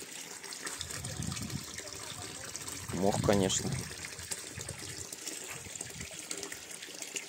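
Cold spring water running steadily outdoors in the countryside near Kharkiv, a continuous gentle rush beneath people talking nearby.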